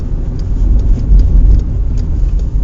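Steady low rumble of a car engine decelerating in gear with a manual gearbox and no braking, the drone loud and continuous from inside the cabin, no talking.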